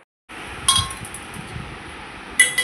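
Metal pot clinking twice as water is set on to heat in a home kitchen, a bright ringing clink near the start and another near the end, with quiet room noise between and no talk.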